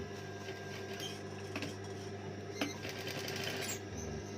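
A sewing machine stitches a neckline binding with a steady close mechanical hum and rapid needle rattle running throughout, with a few faint clicks layered over it.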